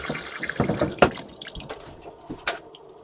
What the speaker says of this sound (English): we can hear the water running